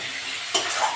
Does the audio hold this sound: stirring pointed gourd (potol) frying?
yes